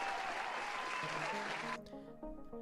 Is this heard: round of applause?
yes